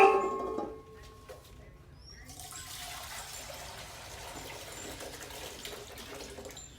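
Water runs from a tap into a watering can in a dog kennel ward, a steady hissing splash that starts after a brief clatter and carries on evenly at moderate loudness.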